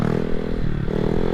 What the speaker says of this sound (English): You hear that engine, how it's slowing down and it brings us down.